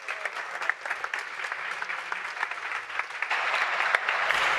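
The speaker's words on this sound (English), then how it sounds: "let's give this wonderful young woman a warm welcome and round of applause in her accomplishments." Applause from members in a legislative Assembly chamber welcoming a guest, a steady dense clapping that grows slightly louder toward the end, with no speech over it.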